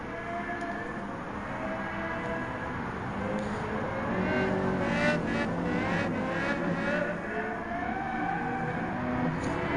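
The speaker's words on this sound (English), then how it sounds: "Love that sound of the B10 Lexus engine" Lexus V10 race car engine in Gran Turismo 7: a steady, loud in-game engine drone with road and tyre noise, building slightly partway through, with no talk.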